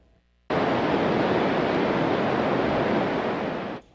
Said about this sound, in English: That is water rushing over Hinckley Dam this afternoon.